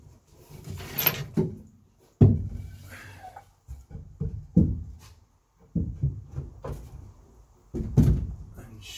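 A camper trailer lid without gas struts is lifted open by hand in a garage, producing a run of hollow thumps, knocks and creaks spaced irregularly across the moment, fairly close.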